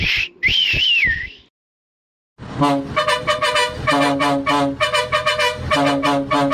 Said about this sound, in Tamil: விசில் அடிக்க சொன்னா காத்து ஊதுது